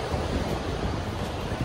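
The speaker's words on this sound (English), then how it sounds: "Take a look at the ocean." Steady wash of ocean surf on a chilly Florida beach, broad continuous roar with some wind rumble, no voices.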